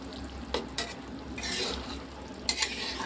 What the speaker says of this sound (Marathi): वरतून आपण तडका देऊन दिला. आपण हलवून घेऊ.